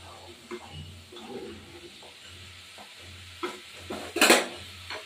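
Green cauliflower leaves fry quietly in a pan with a low sizzle, broken by intermittent stirring scrapes and utensil knocks, including one louder clattering scrape near the end, and no voices.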